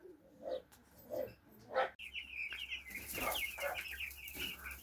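Chickens cluck in a few separate bursts, then a busy stretch of high chirping and peeping from several young chicks, close by.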